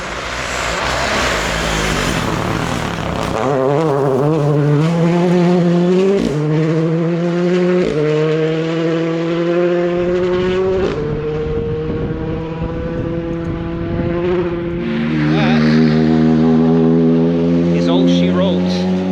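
M-Sport WRC rally car driving a forest test road at night, engine climbing through gears with rising harmonic sweeps and shifts, loud and close throughout; faint voices may sit beneath the engine noise.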